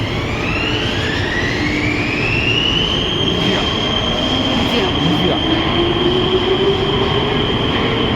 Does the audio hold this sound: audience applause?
no